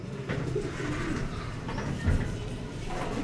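Racing pigeons coo softly at a loft during a training toss, low murmuring calls at moderate distance over a steady outdoor background.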